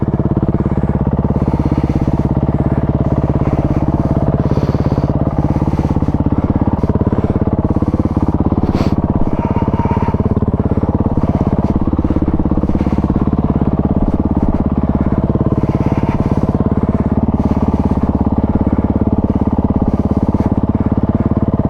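A dual sport adventure motorcycle engine runs steadily in first gear on a slope during a trail ride in Shropshire, a loud, close, continuous rumble with an uneven idle-like throb and no talking.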